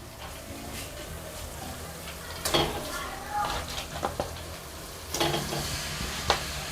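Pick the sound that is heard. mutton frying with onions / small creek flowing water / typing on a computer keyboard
mutton frying with onions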